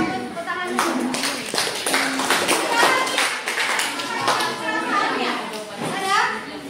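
Schoolchildren clapping hands together in a Indonesian classroom, rhythmic bursts of clapping mixed with children's voices and chatter.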